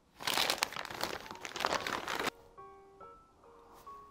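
Plastic zipper-bag packaging crinkles and rustles loudly as an eco bag is unwrapped, a dense burst of crackling for about two seconds, then quieter with faint tonal sounds in the background.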